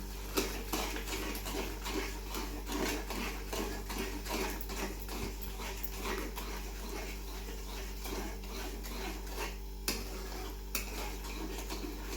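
Spoon stirring sugar into a patishapta batter in a bowl, with steady repeated scraping and clinking of utensil against the vessel, moderately close, no talking.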